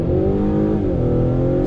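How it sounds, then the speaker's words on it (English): A 2021 Acura TLX with a turbocharged inline-four pulls hard under throttle, its engine drone loud and close, rising in pitch as it accelerates, with a brief dip like a gear shift. "let's do another acceleration test on throttle"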